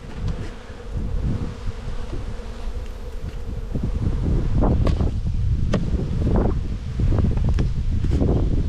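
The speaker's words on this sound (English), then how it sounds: "Pretty windy today, as you probably have already guessed." Gusty wind blows steadily outdoors among beehives, a low rumbling roar that swells and stays loud, with the buzz of many bees and a few sharp bursts mixed through it.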